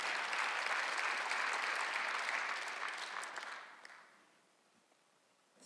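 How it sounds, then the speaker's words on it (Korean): A church congregation bursts into loud, dense applause during a Sunday sermon, sustaining full clapping for about three seconds before it thins and fades into near quiet, with a faint sound at the very end. "박수하세요."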